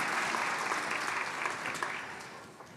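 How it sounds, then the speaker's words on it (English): Audience at a music showcase evening claps steadily, a dense, even wash of applause that holds for a few seconds and then tapers slightly. "You can clap if you want"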